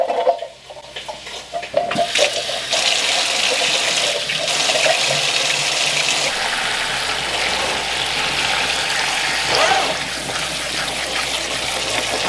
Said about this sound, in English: now we want to open our kidney beans and drain them and rinse them